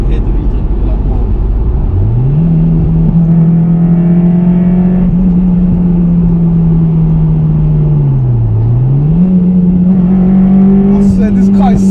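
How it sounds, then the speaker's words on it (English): A 2006 Honda Civic EP3 Type-R (Stage 2) with manual gearbox revs loudly from the cabin, climbing sharply into a steady high-pitched VTEC wail, dipping briefly during a shift before pulling hard again. "you hear the VTEC a lot more."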